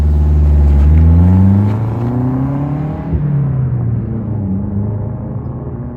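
A Saab 900 Turbo engine pulls hard while driving, a loud close rumbling drone climbing in pitch through the revs, then easing back and settling into a steadier hum, with no voices.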